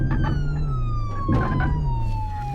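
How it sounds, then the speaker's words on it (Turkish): A police car siren wails in the Flashing Lights emergency services simulator game, a loud steady tone sliding slowly downward over a rumbling engine, with brief bursts of other noise in the background. "Neyse sireni yakalım gidelim."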